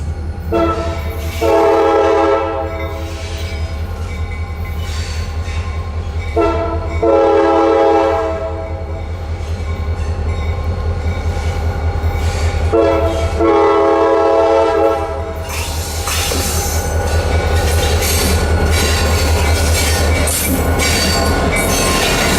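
A CSX local freight train rumbles past steadily while its horn sounds in several long blasts, with wheels squealing and clattering toward the end.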